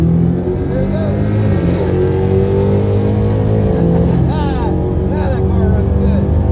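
A plum crazy pulleyed E85 Redeye Challenger accelerating hard down a quarter-mile drag strip, a loud rising engine roar heard from inside a car with people talking over it.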